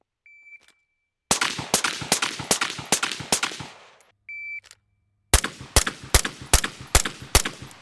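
A pistol fires two rapid strings of about six sharp, loud shots each during a Bill Drill, each string preceded by a shot-timer beep, with silent gaps in between.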